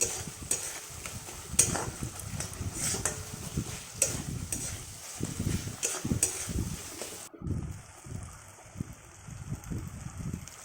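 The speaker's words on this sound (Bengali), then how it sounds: "এবার এই মশলাটাকে সুন্দর করে কষিয়ে নিতে হবে। দেখুন তেল ছেড়ে এসছে।" Spice paste sautéing in oil for a Bengali fish curry, a close, continuous crackling sizzle with repeated stirring and scraping strokes, changing abruptly to a smoother, quieter bubbling near the end.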